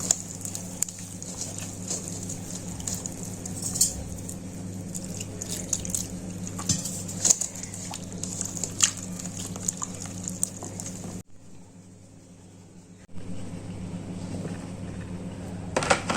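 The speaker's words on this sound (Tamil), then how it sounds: "கொஞ்சம் கொஞ்சமா தண்ணி சேர்த்து மிக்ஸ் பண்ணிக்கோங்க." Water trickles and splashes with small clinks and stirring sounds as it is mixed into cauliflower Gobi Manchurian batter, fairly quiet and close, pausing briefly before resuming.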